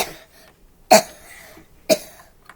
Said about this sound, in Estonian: aga ta ajas limonaadi kurku ja ärkas köhides